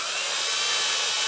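A power drill bores a large hole through a finished wooden display project, a steady loud whine with hiss that runs continuously and close by, with no talk.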